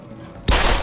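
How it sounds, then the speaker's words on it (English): A sudden loud burst of video game gunfire near the start of a firefight erupts after a quiet moment, dense and sustained through the end. "Fucking gunshots!"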